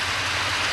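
Rain falls in a Ninja Hattori cartoon scene, a brief, steady broadband hiss of downpour, fairly loud and unbroken.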